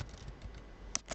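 Soft, faint key clicks come from a computer keyboard as data is typed in, a few irregular taps with a brighter click near the end, heard alone.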